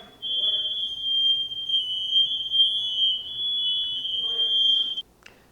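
A newly installed fire alarm shrieks with one steady, piercing high-pitched tone for about five seconds before cutting off abruptly, with faint voices murmuring in the kitchen beneath it.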